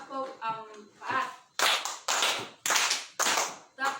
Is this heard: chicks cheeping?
no